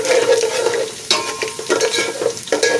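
Cinnamon, black peppercorns, cloves, cumin and black cardamom frying in hot oil for aloo tahari, a loud close sizzle with stirring scrapes and crackling bursts.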